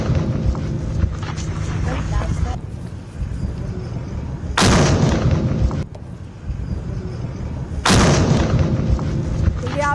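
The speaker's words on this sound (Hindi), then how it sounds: "तो ये आप सुन रहे हैं जो धमाके की आवाज हो रही है" Controlled detonation of a defused Pakistani drone, heard as two loud broadband blasts about three seconds apart over continuous background rumble and commotion.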